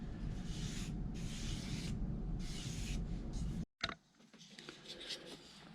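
Wood sanded by hand, rhythmic rubbing strokes in about four even passes, followed by a brief pause and then lighter, scattered scraping and handling sounds, all fairly quiet.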